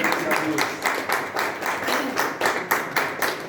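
A church congregation claps hands in a steady rhythmic beat during a baptism service, the claps landing about every third of a second beneath background voices.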